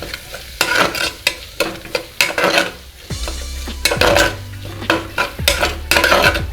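Chilli powder, Kashmiri red chilli powder, goda masala and turmeric being stirred in a pan, heard as a close, loud, irregular scraping and clinking of the spoon with sizzling underneath, no talking.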